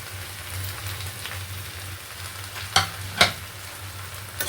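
Dried loitta fish tossed with taro stolons in a hot pan gives a steady sizzle, with a couple of sharp scraping stirs of the spatula near the end.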